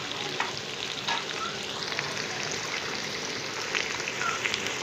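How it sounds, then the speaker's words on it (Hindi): French fries frying in a small amount of oil in a pan, a steady close sizzle with crackling bubbles throughout and no voices. "उसी में फ्राइज़ तल सकते हैं"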